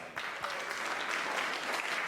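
A live comedy club audience applauds, a dense, even wash of clapping that starts abruptly and holds steady for about two seconds.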